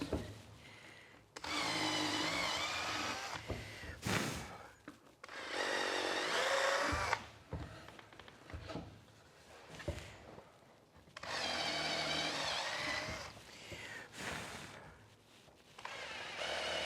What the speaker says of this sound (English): Now we want to drill these out